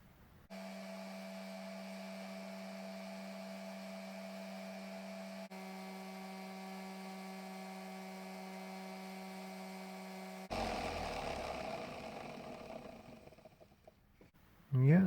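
A small rotary tool hums at a steady pitch, then grinds down the ends of a wire tube for fly-tying bobbin holders, with a rougher filing burst near the end.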